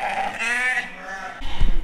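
Lambs bleat in a pen during a check with a combi clamp, a close, wavering cry lasting under a second, followed by a softer bleat and a low thump of movement.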